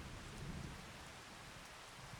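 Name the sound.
rain in the video game Farming Simulator 25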